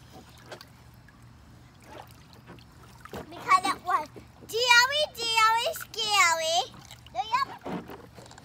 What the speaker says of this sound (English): Now I'm going to show you what a dive is.